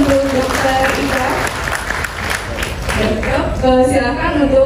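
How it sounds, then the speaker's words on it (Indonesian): Seminar audience applauding for a speaker, a steady wash of clapping that runs the whole time beneath a voice talking over it. "Boleh tepuk tangan dahulu untuk Dokter Ika"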